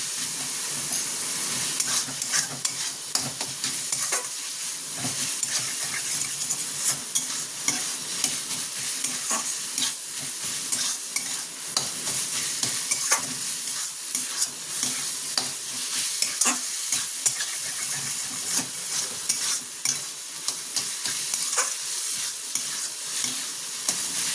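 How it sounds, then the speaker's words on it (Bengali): Soya chunk momo filling frying in a pan, a steady hissing sizzle with frequent scraping stirs throughout, close and fairly loud, no talking. "এবার এটাকে একটু ভেজে নেব।"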